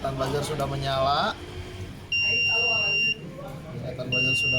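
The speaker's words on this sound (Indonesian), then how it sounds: "Buzzer sudah mulai menyala, artinya air sungai hampir penuh dan akan meluber ke rumah warga." A homemade flood detector's buzzer sounds two steady high-pitched tones, each about a second long, after a stretch of talk, with someone speaking underneath.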